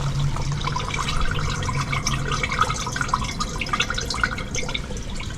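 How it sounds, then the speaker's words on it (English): Water flows and drips in an outdoor drain by the gutters, a steady close trickle with scattered drips and splashes running continuously. "That water's flowing somewhere."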